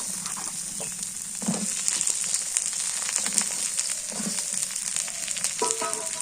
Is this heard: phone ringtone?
no